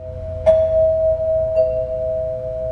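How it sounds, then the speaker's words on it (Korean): A doorbell in a John Wick film scene sounds a sustained two-tone chime that rings clearly with a soft second strike, heard close and alone over a quiet room. "과거를 묻자마자 정확한 타이밍에 초인종이 울립니다"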